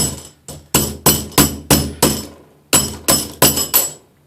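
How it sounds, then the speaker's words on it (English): Metal hammer blows strike a bathtub faucet part, about a dozen sharp ringing impacts in two quick bursts with a short pause between, close and loud, with no speech. "Hammering the hell out of this thing does not get it out."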